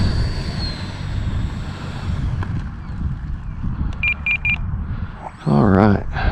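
A radio-controlled L-39 Black Diamond model jet is heard with its ducted-fan whine, steady and moderately loud, flying without gyro stabilization. A few short electronic beeps come partway through, and a voice speaks near the end.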